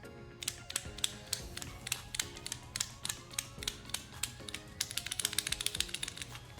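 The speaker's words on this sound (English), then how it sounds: "so that's very clear movement of the spring-loaded mechanism inside there" A spring-loaded PCV valve from a 6.4L RAM HD 2500 is shaken by hand, producing quick, crisp clicking rattles in uneven bursts that grow denser toward the end, close and alone.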